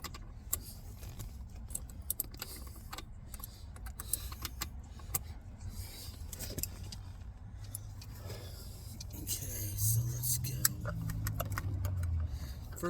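A lock pick works the ignition lock cylinder of a 2008 Chevy Impala, giving faint, close, irregular metallic ticks and clicks over quiet room noise, with a brief rising whir near the end.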